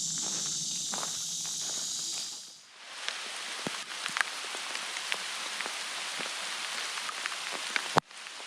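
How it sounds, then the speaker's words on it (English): Light rain patters steadily on leaves and ground along a swampy Florida trail, a soft, even hiss broken by scattered drips and footsteps, with no talking. "Starting to rain a little bit."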